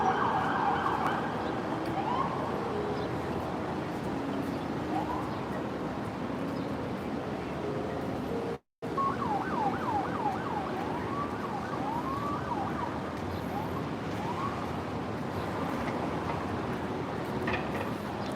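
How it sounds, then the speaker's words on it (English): A Dodge undercover police car's siren wails on 34th Street in Midtown Manhattan, New York City, rising and falling in repeated sweeps over the hum of the street, moderately distant, with a brief dropout midway. "That's a Dodge undercover police car."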